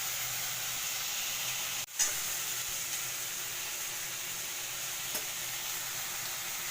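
Spice pastes of green chili and cashew added to chicken roast frying in a pan, a continuous loud, close sizzle with a brief dip and flare as more paste goes in.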